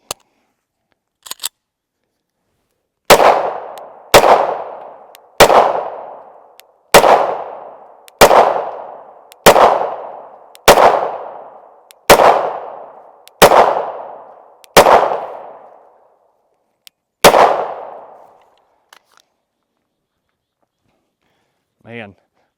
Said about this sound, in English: Let's shoot this other mag real quick.